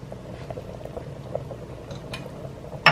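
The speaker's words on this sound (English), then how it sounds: "Now that it's come to a boil, I'm going to stir the soup" Split pea soup bubbles at a boil in a pot, a steady low burbling with faint spoon scrapes, ending in a sharper clink near the close.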